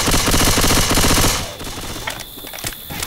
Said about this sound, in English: you weren't shooting them, you're shooting me